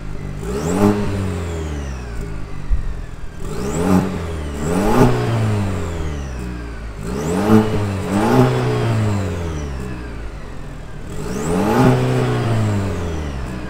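A 2022 Chevy Silverado LT's 2.7-liter turbocharged four-cylinder engine revs up repeatedly, five or six rising and falling bursts close by with a steady idle between them.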